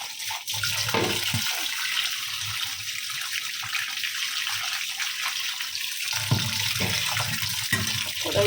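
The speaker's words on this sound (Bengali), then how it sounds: "চিংড়ি মাছটা ধুয়ে নিই।" Cleaned prawns rinsed under running water in a kitchen, a continuous close splashing stream that stays even and fairly loud for the whole stretch with no voices.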